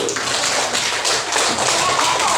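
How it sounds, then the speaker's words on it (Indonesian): Group of students in a classroom clapping together, a dense continuous patter of many hands, loud and steady throughout. "Tepuk tangan dulu"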